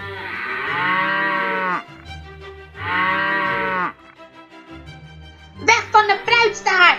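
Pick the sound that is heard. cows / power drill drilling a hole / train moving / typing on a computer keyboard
cows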